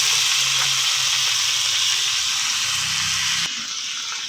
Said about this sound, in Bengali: ঢেঁড়স ভাজবো, ঢেঁড়স দিয়ে দিলাম।